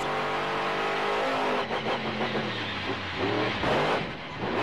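A monster truck engine at a Monster Jam arena event in Atlanta revs hard on the throttle, a loud roaring drone rising and falling in pitch as the driver works the pedal.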